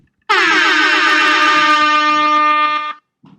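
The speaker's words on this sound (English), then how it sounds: "That's my air horn machine." A single loud, blaring DJ air horn machine blast holds steady for about three seconds, then cuts off abruptly into near silence.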